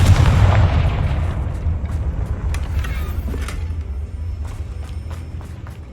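A Confringo fire spell from Hogwarts Legacy bursts in one loud, deep boom that rolls off into a long, fading rumble, with sharp crackles and pops dotting the decay.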